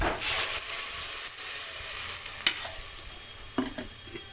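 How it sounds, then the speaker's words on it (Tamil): Ground masala paste poured into a hot pan of sautéed onion, garlic, green chilli and curry leaves for fish kulambu, giving a soft steady sizzle with a few light clinks and stirring sounds. "கொஞ்சம் அரைச்சி வச்ச மசாலாவை ஊற்றுறோம்."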